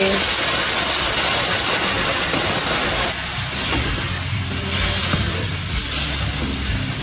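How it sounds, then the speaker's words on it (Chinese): Boiling water poured into a hot wok of stir-fried pork slices and green beans, a loud steady hiss and sizzle throughout that eases slightly partway. "加开水"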